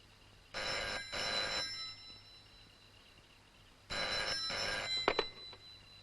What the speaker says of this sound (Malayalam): ഇത് മഹേന്ദ്രവർമ്മയുടെ ഫോണാണെങ്കിൽ നീ സംസാരിക്കാതിരിക്കാൻ നല്ലത്